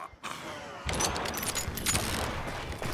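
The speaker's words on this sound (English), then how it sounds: "I heard the shots and I knew I had to move" Gunshots in the Western video game Call of Juarez Gunslinger, a sudden burst of rapid gunfire crackling close and loud over a rough, noisy background after a brief quieter start.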